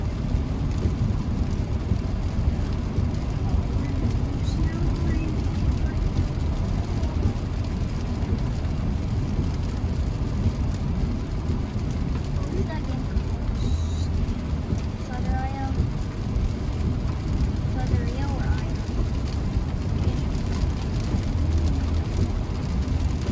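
A car driving on narrow rural Kentucky roads in the rain, with a steady wash of rain and tire hiss over a low road rumble that runs the whole way through, as the occupants talk now and then.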